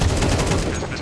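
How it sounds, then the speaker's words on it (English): Wallbang headshot gunfire in a Counter-Strike match, a dense, loud burst of rapid shots packed into a single second, filling the whole clip. "That was wallbang headshots."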